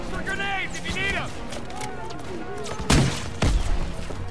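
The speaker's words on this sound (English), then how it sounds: "Come on, they need cover fire! Suppressive fire! Keep firing!" Gunfire from the World War II shooter Call of Duty WWII sounds in two heavy bursts near the end, under loud shouted voices calling for covering fire.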